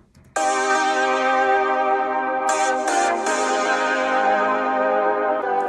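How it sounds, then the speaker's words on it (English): A bright 80s-style synth chord layered over a warm synthwave pad, starting suddenly and sustaining loudly with a brief rhythmic flutter midway, then ringing on steadily. "So on top of that, I layered the, so-called 80s sound chord"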